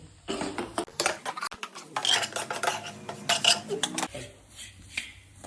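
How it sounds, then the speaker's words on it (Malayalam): A spoon stirs ground coriander, meat masala and Kashmiri chili powder in a pan for a Kottayam-style bone and tapioca dish, with busy scraping, clinking and rubbing against the metal, close and continuous. "ഇങ്ങനെ ഇളക്കിക്കൊണ്ടിരിക്കുക അല്ലെങ്കിൽ അത് മൂത്ത് കരിഞ്ഞു പോകും"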